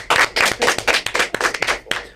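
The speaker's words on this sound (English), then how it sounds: "big round of applause for Austin Suarez's grandma" A studio audience claps for a contestant's grandma, a dense, loud burst of many hands clapping close together that stays steady for a couple of seconds.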